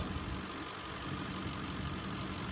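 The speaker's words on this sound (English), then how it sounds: "But does that engine not sound so much better than that Expedition I did earlier?" A 2008 Lincoln Navigator SUV idles with a steady, even rumble and no revving, heard close up and fairly quiet.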